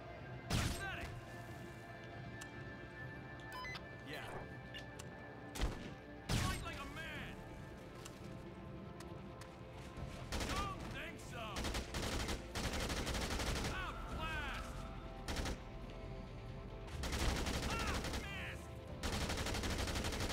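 Sniper rifle shots from the hiding safety strategy in Dead Rising 2, sharp reports spaced irregularly through busy game noise, music and effects, with several loud transient cracks standing out across the stretch.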